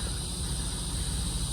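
Cicadas shrill steadily near a truck parking area, a continuous high buzzing drone holding level without pause against low rumbling background noise.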